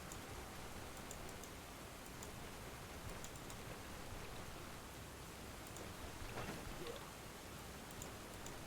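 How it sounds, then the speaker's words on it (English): Heavy torrential rain in the video game Stoneshard, a steady dense hiss of downpour filling the scene at moderate level with faint scattered ticks and no voices. "Bit of a torrential downpour."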